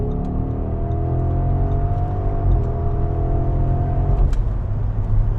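A 2025 Audi SQ7 luxury seven-seat SUV accelerates to overtake, giving a steady, smooth engine hum and road rumble heard from inside the cabin, with a slight rise in engine note and no speech.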